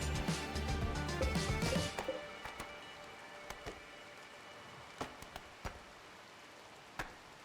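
Rain in the video game RimWorld hisses heavily for a couple of seconds, then drops to a faint patter broken by a few scattered thuds.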